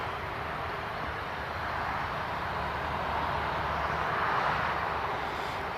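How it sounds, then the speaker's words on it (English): An EasyJet airliner taxis toward the runway at Newcastle Airport, a steady broad jet-engine roar that swells slightly as it passes, heard from a distance with no talk. "The EasyJet is making its speedy taxi along to the runway."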